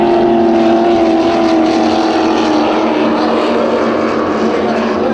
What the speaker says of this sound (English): Page Racing on the backside of the course are getting chased by those helicopters.